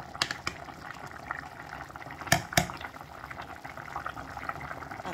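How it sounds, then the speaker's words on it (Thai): Pork bones boil in a pot with a steady, busy bubbling and gurgling, broken by a couple of brief louder splashes or knocks near the middle. "ต้มกระดูกหมูอ่อนนะคะ"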